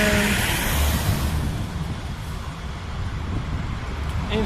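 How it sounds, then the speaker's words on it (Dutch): A car approaches on the road, its engine and tyre noise rising loudly and then easing into a lower rumble that carries on faintly. "Even kijken, komt een auto aan."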